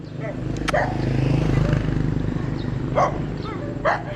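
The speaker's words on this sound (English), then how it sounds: "Here's the happy dogs." Dogs bark on a farm in a few short, sharp bursts, with one early bark and two more later, over a steady low rumble of background noise.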